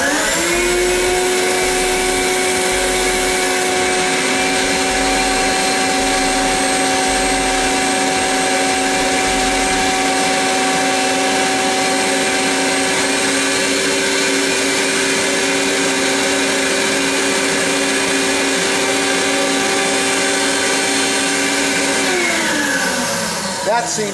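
A loud, steady mechanical drone with strong tonal hum runs continuously, like a vacuum motor, then winds down at the very end: a vacuum forming machine's vacuum running.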